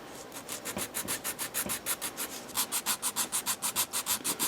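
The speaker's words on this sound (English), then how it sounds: "So I'm just going to use an emery board. So let's get this all planed down," An old model car kit engine part is rubbed flat on an emery board, a close, dry scratching stroke repeated in a fast, even back-and-forth rhythm that grows louder and more regular partway through.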